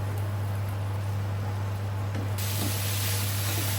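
Food fries in a pan over high heat, giving a loud, steady sizzling hiss close by over a low constant hum, unbroken for a few seconds with no speech.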